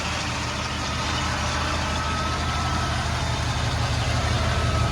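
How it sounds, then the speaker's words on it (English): Mercedes W126 engine idling steadily with a Bosch alternator under load and the AC compressor running, a continuous low hum with a faint whine on top, close and unbroken, with no voices. "you can hear the alternator is laboring"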